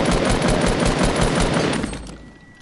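Rapid automatic gunfire in the video game Fortnite, a loud unbroken burst of shots lasting about two seconds before cutting off.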